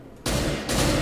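Rapid gunfire from Counter-Strike: Global Offensive, a sudden loud burst of shots that breaks off briefly and then resumes.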